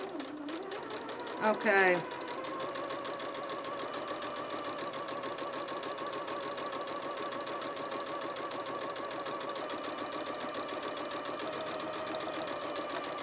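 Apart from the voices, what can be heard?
sewing machine stitching a fabric coffee cup sleeve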